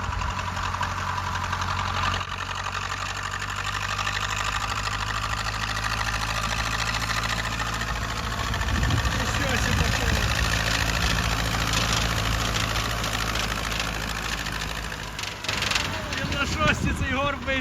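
A T-40 tractor engine runs after a repair to its coupling, a loud, steady diesel rumble with knocking, rising in effort midway, while people talk faintly underneath.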